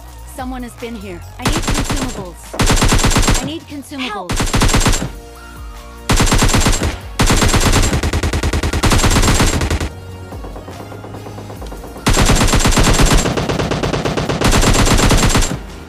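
Automatic weapon fire in the shooter game PUBG Lite, loud sustained bursts of rapid shots separated by short pauses, close and dominating, with a voice talking in the quieter gaps.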